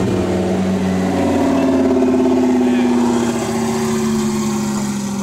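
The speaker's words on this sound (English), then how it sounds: "these R8's are so loud," Audi R8 with a V10 engine, one of three tuned cars at a race event, producing a loud, sustained mid-pitched engine drone that rises gently in pitch while nearby voices talk over it.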